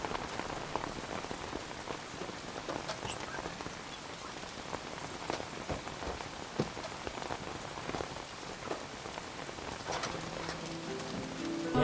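Steady rain pattering on surfaces outdoors, a dense continuous hiss of drops with occasional louder splats, moderately quiet and alone with no voices.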